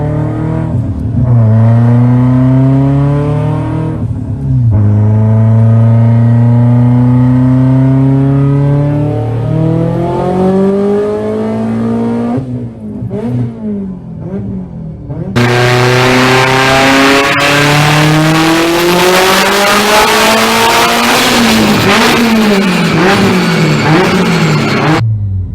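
A Subaru STI with a stock engine making around 800 horsepower, turbocharged near 38 psi of boost, revs hard on a dyno in long rising pulls with a loud, close roar, then climbs again to a screaming high-rpm wail before cutting off.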